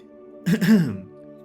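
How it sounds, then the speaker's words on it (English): A single short throat clearing, a gruff cough-like rasp, over a faint steady electrical hum. "Did you just emulate my nervous pre-record cough?"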